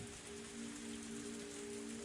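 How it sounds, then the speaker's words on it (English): Heavy, steady rain from a torrential downpour in the game Higurashi When They Cry, a dense, even hiss of drops with a faint low tonal hum underneath. "As Oishi mused that it might start to rain, a torrential downpour started"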